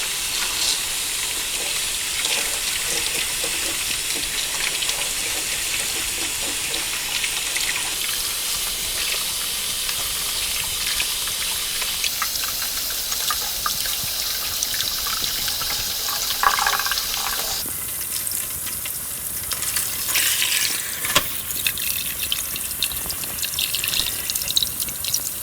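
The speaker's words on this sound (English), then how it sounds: "All I have to do is just rinse everything really, really good. Some cold water." Cold tap water pours steadily into a kitchen sink while bell peppers are rinsed, a loud continuous rushing splash that shifts in tone as the stream hits the bowl and produce, with no talking.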